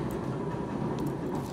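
A train passes nearby, heard as a low continuous rumble of rolling wheels and rail noise, steady and fairly faint.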